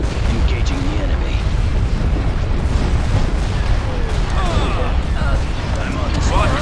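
A hypervelocity cannon fires during a space station attack in a Star Wars Imperial campaign video game, heard as dense, continuous booming artillery blasts that form a loud, unbroken roar. Voices speak throughout.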